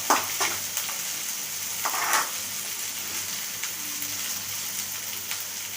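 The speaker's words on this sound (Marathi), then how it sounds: "कांदा आणि मिरची आपली परतवून झालेली आहे" Onion and green chili sautéing in a pan for a drumstick-leaf vegetable dish, a steady close sizzle with scraping stirs and a few louder clatters, no talking.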